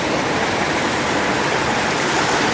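Chehalis River water rushing over rocks in a salmon spawning stretch, a steady broadband roar that stays close and constant throughout, with no voices.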